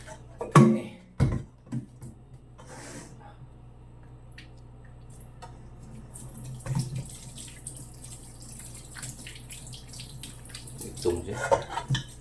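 Tap water runs steadily into a kitchen sink while meat is washed. A few sharp clatters and knocks of handling come near the start and end, with no talking.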